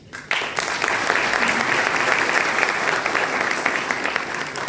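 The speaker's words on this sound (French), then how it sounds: "On les applaudit." Audience applause at a cultural seminar marking 50 years of a higher school of technology in Fkih Ben Salah, Morocco. It bursts in after a brief quiet moment and holds as steady, dense clapping to the end.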